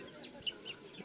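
Chickens cluck faintly at an animal market in Moncef Bey, Tunis, with a few soft, scattered clucks and chirps over low crowd hum and no close talking.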